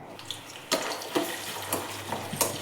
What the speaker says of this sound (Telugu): ఆనియన్స్ పచ్చిమిరపకాయలు బాగా వేయించాలి